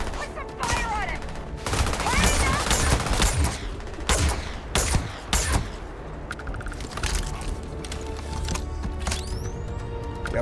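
Bursts of gunfire during a base assault in the sci-fi game Starfield, rapid repeated shots and heavy volleys, loud and close, with voices speaking in the mix.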